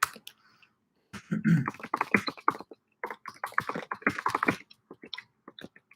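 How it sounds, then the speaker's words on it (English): Someone types on a computer keyboard during an online philosophy class, producing bursts of quick, close clicking keystrokes separated by short pauses, fairly quiet with no speech. "I'm typing it in myself."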